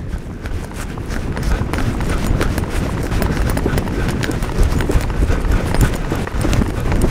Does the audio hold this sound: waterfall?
no